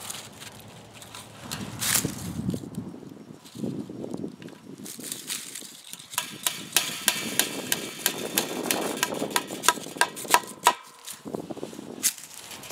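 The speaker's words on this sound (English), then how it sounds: "We're going to take that point and we are going to pound it like a nail" Metal brace point being pounded like a nail into a wooden fence post, a series of sharp, fairly close hammer strikes repeating in a steady rhythm over low background noise.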